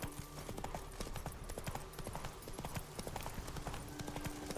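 Horse hooves clip-clopping in The Witcher 3: Wild Hunt, a steady quick rhythm of close, clear hoof strikes that runs through the whole stretch over a constant background of game sound.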